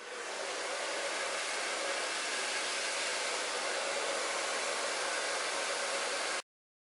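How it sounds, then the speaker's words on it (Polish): A handheld hair dryer roars in a continuous, even rush of air while drying hair wrapped on a brush. Loud and close for several seconds, then it stops suddenly, with no voices. "Także biorę sobie moją suszarkę."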